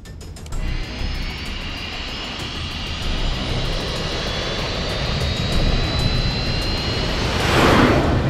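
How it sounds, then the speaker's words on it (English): Air Force One jet airliner taking off in a movie sound effect: a steady, loud jet engine roar that builds gradually, with a surge of rushing noise near the end and no voices. "Ready for takeoff."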